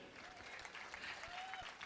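An audience at a church gathering applauds, a dense, steady wash of clapping that fills the whole stretch at an even level without breaks.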